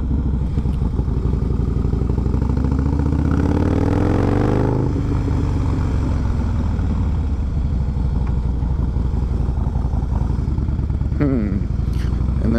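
A 2017 Harley-Davidson Breakout ProStreet motorcycle rides in cold weather, its engine rumbling steadily and rising in a rev around the middle, with wind buffeting throughout.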